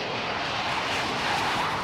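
A Harrier jet aircraft roars in a steady, broadband engine rush that stays loud and constant with no talking.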